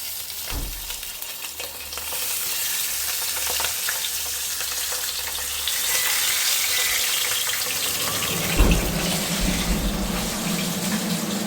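Pabda fish fry in hot oil in a wok, a continuous close sizzle and bubbling hiss that swells as the fish are added, with no voices.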